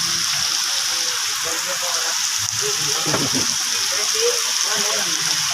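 Steady heavy rain from a typhoon hisses continuously, with indistinct voices talking underneath.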